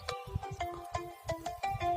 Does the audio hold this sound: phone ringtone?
yes